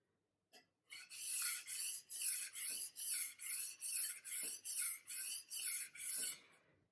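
A knife blade is stroked repeatedly across a muddy whetstone in about a dozen even, close, rasping scrapes, each separated by a brief pause, with no speech.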